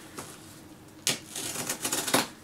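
A blade slices open a cardboard shipping box, giving a few short dry scraping rips separated by quiet pauses, close and fairly soft, with no voices.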